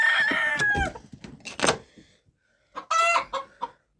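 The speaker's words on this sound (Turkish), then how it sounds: "Büyük ihtimal horozdan bağırıyor." A rooster crows loudly nearby, a strained drawn-out call, followed by a couple of shorter squawks and a second crow after a brief pause.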